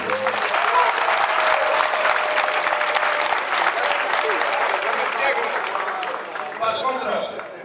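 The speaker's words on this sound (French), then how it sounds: "Je demande à tout le monde d'applaudir." Sustained applause from an audience at a union meeting of Togolese public servants, dense and loud throughout before tapering off near the end.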